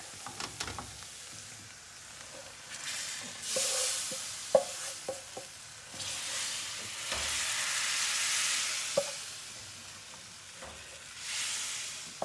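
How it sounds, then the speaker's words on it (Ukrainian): Minced meat frying in a pan, soft sizzling that swells and fades in waves, broken by scattered scrapes and clacks of stirring, fairly quiet and close. "запхаємо м'ясо і кинемо на сковородку або на пательню"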